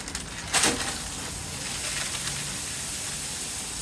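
A big burger patty cooking on a hot surface, a loud hiss and sizzle flaring sharply at first, then settling into a steady, close frying crackle.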